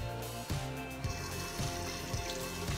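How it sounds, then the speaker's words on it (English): Tap water runs into a container at home, a steady rushing splash with gurgling shifts as the vessel fills, close and moderately quiet, with no voices. "so first you're gonna fill it up with warm water or cold"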